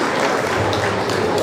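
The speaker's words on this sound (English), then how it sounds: "Round of applause for Rochelle, please." Brief burst of audience clapping at a Jamaica 60 Diamond Jubilee gala, dense and fairly loud, with no pause from start to finish.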